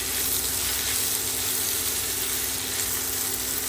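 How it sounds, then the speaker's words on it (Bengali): Cauliflower and snakehead fish frying slowly in oil over low heat, a steady, dense sizzle heard close up and unbroken, with no talk. "এটা ধীরে ধীরে অল্প জালে ভাজা হতে থাকবে"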